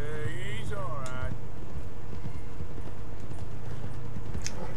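Rhythmic horse hoofbeats clip-clop steadily at a walking pace in the video game Red Dead Redemption 2, with a brief voice early on over the plodding steps.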